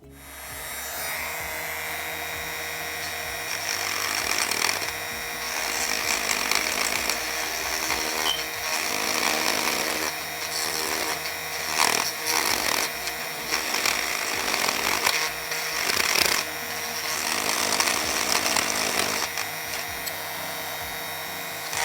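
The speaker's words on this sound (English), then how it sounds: "this is the tool head I'm using to grind out the unnecessary plastic" A rotary tool grinds away unneeded plastic on an O gauge model locomotive (Hattons A3/A4), a steady high-pitched whine that rises and dips as the bit bites into the plastic, close and continuous with no talking.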